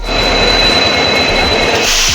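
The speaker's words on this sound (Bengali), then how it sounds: "এই যে আমাদের ধৌলি ট্রেন" Dhauli Express passenger train at Puri station, a loud steady roar of engine or railway noise with a faint high whine, continuous and close, with no voices.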